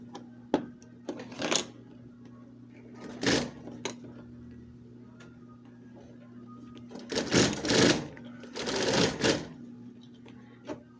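A sewing machine stitches a hemmed fabric backpack strap in bursts of fast, buzzing runs separated by pauses, with a steady low motor hum underneath and a few small clicks between stitching passes.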